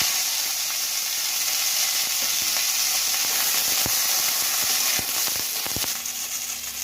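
Food hits hot oil in a wok while cooking jhal puli pitha with peas and cauliflower, a loud constant sizzle and hiss with a few sharp crackles and pops toward the end.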